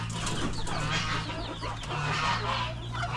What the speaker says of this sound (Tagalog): ayan, yung mga parawakan na yan